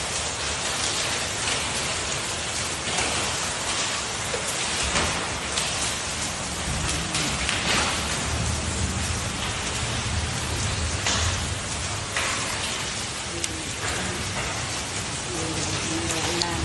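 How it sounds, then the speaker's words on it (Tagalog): Hail pours down hard and steadily in dense, loud noise that also sounds like heavy rain, with faint thunder-like rumbles underneath. It comes after an unusually hot day. "Ngayon, yelo ang umuulan."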